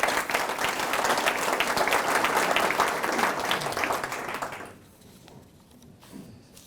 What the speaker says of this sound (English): Have a round of applause for these guys.